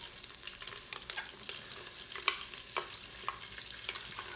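Garlic and shallots cook in melted butter inside an Instant Pot, a faint crackling sizzle with scattered sharp pops and light stirring, quiet and close.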